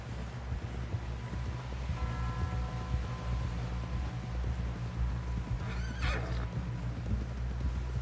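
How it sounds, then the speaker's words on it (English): Steady clip-clop of a horse's hooves in the video game Red Dead Redemption 2 over a low rumbling background, with the horse neighing briefly partway through. "Someone help John down off this horse."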